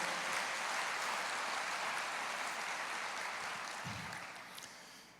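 A church congregation applauds during a sermon, a soft, diffuse wash of clapping heard from a distance that slowly fades, with no voices over it.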